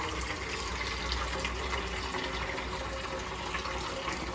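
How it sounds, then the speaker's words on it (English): Cold tap water pours steadily into a salad spinner bowl in a kitchen sink, a continuous loud rushing splash that holds even throughout. "I throw some cold water in there"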